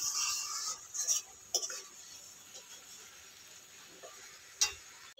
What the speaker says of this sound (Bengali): শুকনো লঙ্কার গুঁড়ো আমি সামান্য দিচ্ছি, আর দিয়ে দিচ্ছি সামান্য ধনে গুঁড়ো, আর একটু জল দিয়ে সবকিছু ভালো করে নাড়াচাড়া করে মিশিয়ে নিচ্ছি